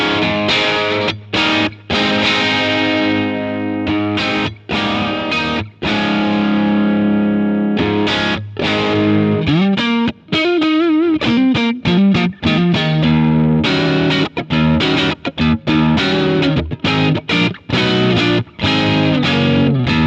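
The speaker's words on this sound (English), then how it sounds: "The Blue Monarch Overdrive. Let's get some quick tones." A Fredric Effects Blue Monarch Overdrive pedal drives an electric guitar through crunchy overdriven chords and riffs, loud and close, with brief gaps between phrases and a fast run of notes midway, with no talking.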